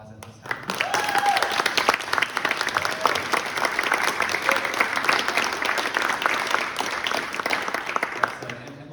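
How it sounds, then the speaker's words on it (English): Audience at a school board candidate forum breaks into applause after a brief voice, a dense, even roar of clapping that swells quickly and continues steadily before easing slightly at the end. "And if you could, give them a round of applause at this time."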